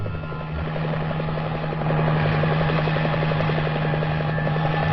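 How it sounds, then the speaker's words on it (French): A Paris fire brigade helicopter drones overhead with a steady, close rotor chop and engine whine, growing slightly louder partway through and holding without pause. "Les pompiers de Paris se sont mis à l'heure de l'hélicoptère."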